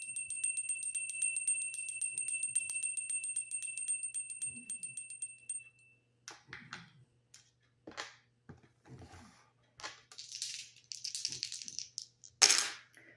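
Dice rattle and tumble in a few short clattering bursts after a sustained bell-like tinkling tone, close and fairly quiet, during a tarot reading.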